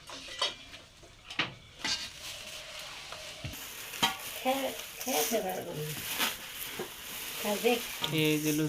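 Luchi puff and deep-fry in hot oil with a soft continuous sizzle, scattered utensil clinks and stirring, while someone talks over it throughout.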